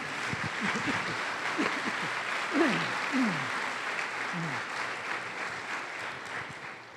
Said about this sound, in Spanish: denle un aplauso a la gloria del Señor